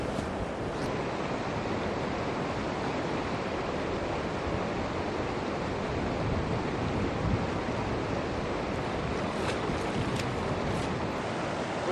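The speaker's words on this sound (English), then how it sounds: "I'll just quickly pan through this overburden, see how fast I can get through it" Sandy overburden being panned in water for gold, a steady broadband wash of swirling water and grit that runs continuously and fairly evenly throughout, with some wind noise on the microphone and no voices.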